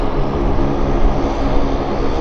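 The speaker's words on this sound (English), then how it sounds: "It looks like it's a Beech 1900. It's going to land here" Beech 1900D twin-turboprop airliner coming in to land at Vancouver airport, a steady loud propeller and engine roar filling the whole short stretch with no talk.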